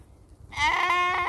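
A goat kid, one of black twin kids kept as pets on a small farm in Belgium, gives a single close, loud, wavering bleat that starts after a half-second of quiet and holds steady to the end.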